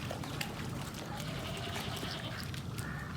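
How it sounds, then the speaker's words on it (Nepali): Goats or sheep bleating on a farm in Mt. Airy, Maryland, among livestock including four-horned sheep, with chickens and ducks nearby; scattered bleats over steady outdoor background noise. "ए भेडा 4टा सिङ भएको भेडा अचम्म लाग्यो"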